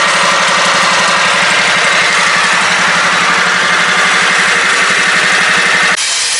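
Craftsman LT 1000 lawn tractor engine idling steadily with a new exhaust, a loud, even throbbing putter held close up with no talk, dropping slightly near the end.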